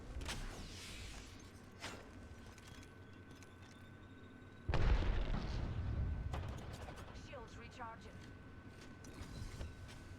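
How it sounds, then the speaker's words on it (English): An arc star detonates in a team-based shooter game: a sudden, loud, broad blast rises out of steady gameplay ambience midway through and then rumbles down, with smaller clicks and effects around it. "that arc star, we see that arc star explosion"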